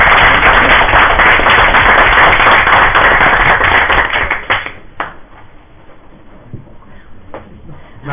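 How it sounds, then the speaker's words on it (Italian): Lively applause from a seminar audience at a university, dense clapping for about four seconds before quickly dying away into scattered claps and room noise. "io farei un bel applauso"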